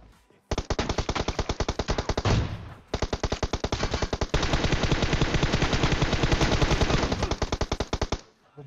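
Gunfire in the mobile battle-royale game PUBG Mobile: loud, rapid automatic bursts of shots in a steady rhythm, a brief pause near the third second, then a long continuous stream of fire up close, with no talking.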